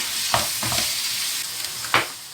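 Minced meat is mixed and stirred in a hot pan for cabbage pickle rolls, giving a close, constant sizzle with a few soft scraping strokes of a spoon rising above it.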